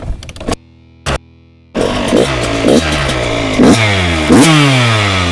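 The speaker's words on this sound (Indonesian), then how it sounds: "Sekarang kita dengerin suara dari Kawasaki KX 112." A Kawasaki KX 112 two-stroke dirt bike engine revs loud and close, with a few short sharp blips and pauses at first, then sustained high revving with repeated throttle surges and drops.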